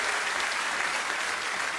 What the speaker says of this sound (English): he's clapping and cheering.